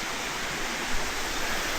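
The Grande cascade de Tendon waterfall in the Vosges roars as a steady, dense rush of falling water, close and loud, with no voices.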